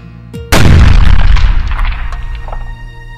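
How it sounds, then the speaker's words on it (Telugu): A bomb blast in a town neighbourhood goes off as one loud, sudden boom, then a long rumbling decay with scattered debris and echoes trailing away over the next few seconds. "బాంబు బ్లాస్ట్ జరిగింది సార్."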